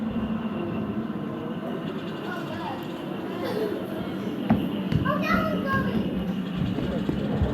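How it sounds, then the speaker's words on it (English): A model railway train running on a layout at a model railway exhibition, a soft rolling rumble beneath a busy hall full of children's chatter and adult voices. "Here comes the train again,"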